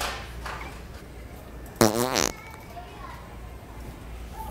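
A Pooter prank fart device lets out one loud, brief, wet-sounding fart of about half a second in a busy Walmart store, standing out against a low murmur of shoppers.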